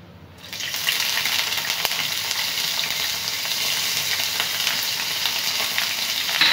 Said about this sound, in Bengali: এখন ইসি মাছগুলো তেলের ভিতর দিয়ে চটচট করে ভাজি নেব